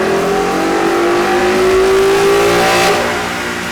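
A 2012 Ford Mustang GT fitted with a C&L cold air intake and Bama tune revs hard on chassis dyno rollers, a loud, close engine note climbing steadily and holding before easing off near the end.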